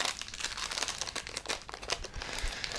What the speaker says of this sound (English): Makes a lot of noise, right? It's the paper.